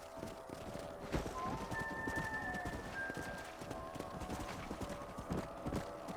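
Horses in Red Dead Redemption clop steadily at close range, hooves beating a brisk rhythm while a horse whinnies partway through.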